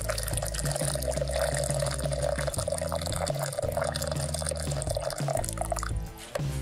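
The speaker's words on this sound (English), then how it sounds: "And we pour the water to the top of the spoon." Boiling water is poured into a yogurt maker tub, a steady splashing liquid stream lasting throughout at moderate volume under a low background hum.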